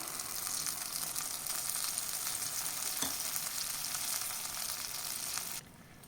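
A pancake made from idli batter fries in a hot pan with a steady, even sizzle. There is one faint tap midway, and the sizzle drops abruptly to a quieter hiss near the end, with no talking.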